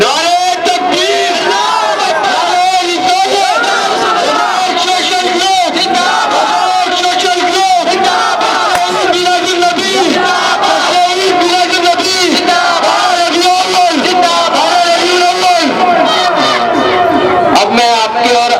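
A large crowd at an Eid Milad un Nabi celebration shouts the takbir slogan together in loud, sustained, chanting unison, continuous voices filling the hall for nearly twenty seconds.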